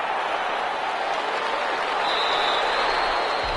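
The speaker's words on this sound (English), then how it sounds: "How about some applause for the defense there?" Steady applause fills a football stadium for the defense after a stop that forces a punt in a Giants–Cowboys game, continuous and loud throughout with no voices over it.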